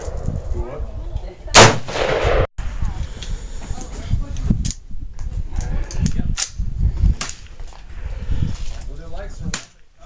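Sharp AR-15 rifle shots ring out at intervals at an outdoor range, with one especially loud crack early on, while people talk over the sequence between shots.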